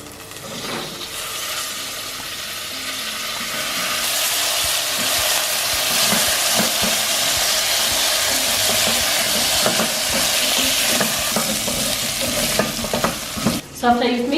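Sweet potatoes hitting a pan of browned onions and garlic for chicken pilau: loud, continuous frying sizzle and hiss that swells after a few seconds, with repeated spoon stirring and clatter near the end.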